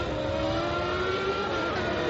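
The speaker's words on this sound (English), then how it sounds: "Gerhard Berger certainly given his Ferrari engine a fairly good workout" A 1994 Ferrari Formula One car engine on the San Marino Grand Prix circuit during warm-up, a loud sustained high-pitched whine holding nearly steady pitch throughout, with no voices.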